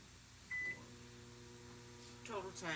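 A microwave oven hums steadily in the background with a faint low drone while cooking potatoes, a brief beep near the start, and a voice near the end.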